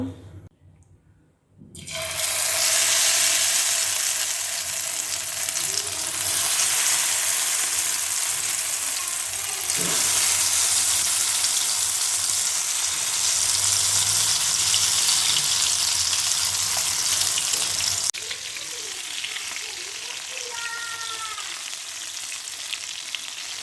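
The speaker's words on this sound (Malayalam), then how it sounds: "ഇനി നമുക്ക് ചിക്കനൊക്കെ ഒന്ന് ഫ്രൈ ചെയ്തെടുക്കാം" Chicken fries in hot oil with a loud, close, steady sizzle that bursts in after a brief quiet moment. The sizzle holds strong and eases slightly toward the end.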